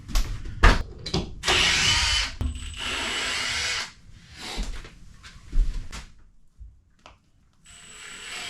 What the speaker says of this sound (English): I put a couple of deck screws in about just over 4 feet down to hold the panel up till I can get it started